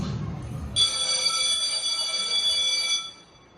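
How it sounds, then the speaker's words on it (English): A school bell rings during a Teacher's Day classroom skit, a steady electric ringing that starts abruptly, holds for about two seconds, then cuts off, following a brief murmur. "The bell rings."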